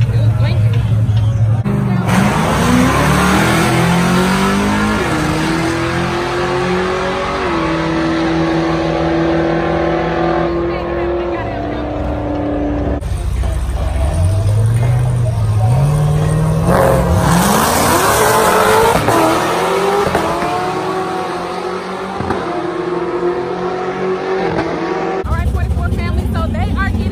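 Dodge Charger RT with a Hemi engine at a race track, loud revs rising and falling through several gear pulls, the engine note sweeping up repeatedly, with people talking over it.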